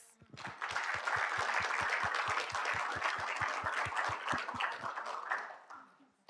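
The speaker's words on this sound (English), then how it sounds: "So one more round of applause." Audience applause for a panel of speakers at an academic conference session on climate immobility, a full, close round of clapping that swells quickly, holds for about five seconds with a rhythmic thud running through it, then fades out.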